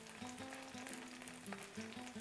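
Birria taco meat and ingredients frying in a pan give a steady close sizzle, with faint soft scrapes and taps of a utensil now and then and no talking.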